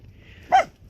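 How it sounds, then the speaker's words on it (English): A single short dog bark rings out nearby, loud against a quiet outdoor background at a camp in Pahrump, Nevada. "That's my dog."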